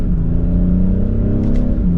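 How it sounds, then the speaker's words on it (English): A 2024 BMW 840i xDrive coupe accelerates hard from second gear, its engine a loud, steady droning growl that climbs slightly in pitch as the revs build. "So let's give it another acceleration from second gear."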